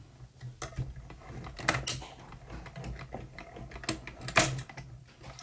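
A holiday card cranked through a manual die-cutting machine in a sandwich of plates gives irregular mechanical clicks and ratcheting creaks, with a few louder clunks, close and alone.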